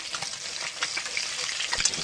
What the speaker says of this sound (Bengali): আর এক খোলা মাছ আমাদের প্রায় ভাজা হয়ে গেছে।